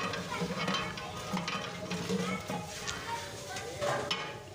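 Thick beef haleem being stirred in a pot, with repeated scraping and soft clanks of a spoon against the metal and a low bubbling sizzle, under faint speech.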